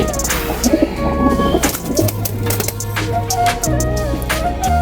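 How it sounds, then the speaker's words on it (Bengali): Army pigeons coo in soft, repeated low murmurs amid a busy background with occasional clicks and knocks, fairly close. "এটা আর্মি কবুতর"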